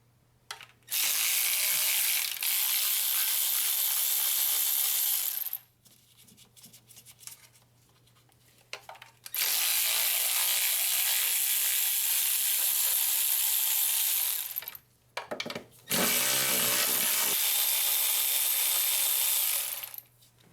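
Ratchet working a 16mm bolt loose on a 1.9L VW Beetle during timing belt and water pump work, heard as three long sustained bursts of dense clicking separated by short pauses, close and fairly loud with no talking.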